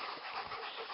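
Dogs on a mountain hike down rocky ground, one panting steadily and close in a short burst of continuous breathy rasping, with no voices over it.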